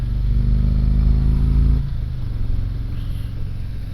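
A 2022 Harley Davidson Ultra Limited touring motorcycle riding along, its loud low engine rumble steady for a couple of seconds before dropping to a quieter, softer drone, with no talking.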